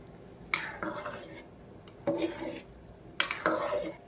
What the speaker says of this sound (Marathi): करायचं हलक्या हाताने मिक्स